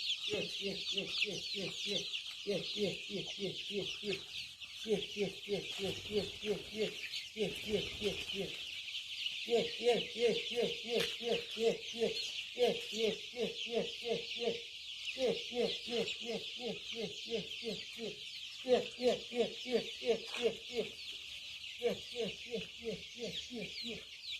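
Backyard chickens cluck while being fed in the Konkan countryside, a close, busy chorus of short pulsing calls in repeated rhythmic runs with brief pauses, as a person calls to them.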